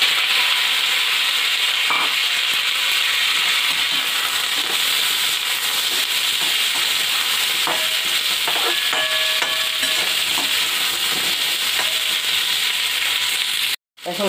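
Pumpkin pieces fry in oil tempered with mustard seeds and panch phoron for a sweet-sour chutney, a continuous loud sizzle with scattered spoon scrapes and soft pops, cutting off abruptly near the end.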